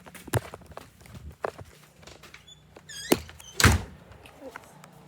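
A door shuts with a solid thump in a hurricane-damaged, fire-hit area, preceded by scattered footsteps and small knocks at close range.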